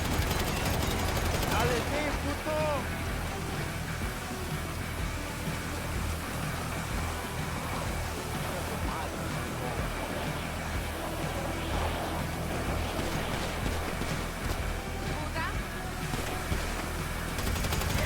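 Rapid bursts of gunfire in GTA V crackle continuously over a dense, noisy battle backdrop, with scattered shots and volleys throughout.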